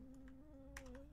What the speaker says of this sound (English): Control D is your duplicate key, which I'm pressing to create new ones.